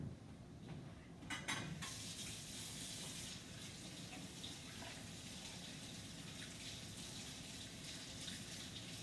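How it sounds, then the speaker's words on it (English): Water runs steadily from a kitchen tap into a sink as hands are washed, with a brief clatter near the start, faint and continuous throughout. "I'm going to wash my hands a little bit"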